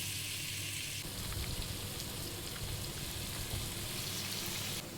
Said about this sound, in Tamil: நம்ம இந்த பன்னீரை லேசாக அப்படியே பொரித்து எடுத்துக்கலாம்